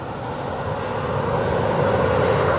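A steady, broad engine roar from an airplane on the runway at East Midlands Airport, swelling slightly over a few seconds at a moderate distance, with no voices.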